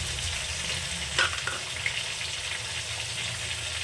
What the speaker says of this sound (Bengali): তরকারিটা আমি সুন্দর করে কষে নেবো